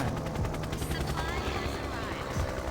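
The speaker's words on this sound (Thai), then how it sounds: "มันยิงเสียงมันอยู่ใกล้ๆนะ" Rapid gunfire close by in the shooting game XSHOT, a steady rattling stream of shots with a droning hum underneath, moderately loud throughout.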